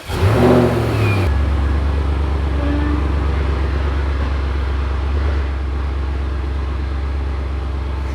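An Audi RS6 being moved forward, its engine revving loudly at first with a strong low rumble, then settling into a steady, continuous drone for the rest of the stretch.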